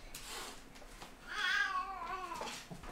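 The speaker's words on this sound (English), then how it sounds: "Cat fight." A cat lets out a drawn-out, wavering yowl like a cat fight, swelling loud in the middle after fainter cries and then trailing off, with no talking.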